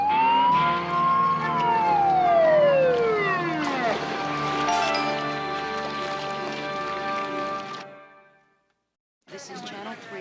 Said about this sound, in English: Why is it I can always tell the sound of Terwilliger's siren?